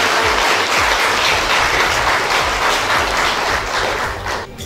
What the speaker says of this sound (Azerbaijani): şəhid ailələrimizi bir gürültülü alqışla alqışlamağınızı istəyirəm